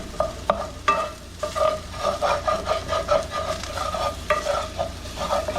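Vegan sausage crumbles being stirred and broken up in a frying pan, rhythmic scraping strokes of a utensil against the pan over a steady sizzle, close and fairly loud with no talking.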